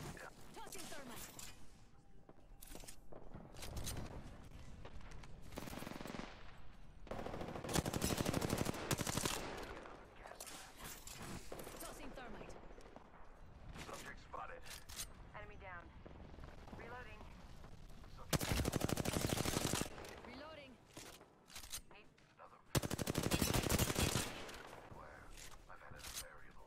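Gunfire in the Apex Legends video game comes in repeated automatic bursts with short pauses between them, loud and close, while a voice talks over parts of the action.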